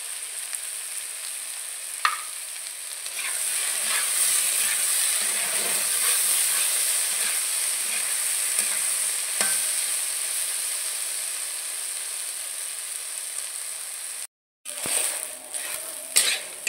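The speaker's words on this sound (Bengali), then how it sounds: "কাঁচকলাগুলোকে আমি ভালো করে ভেজে নিয়েছি" Green plantain pieces frying with turmeric and salt, a steady hissing sizzle with occasional stirring knocks, a brief dropout near the end followed by louder clatter, no voices.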